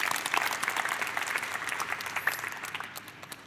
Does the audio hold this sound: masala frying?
no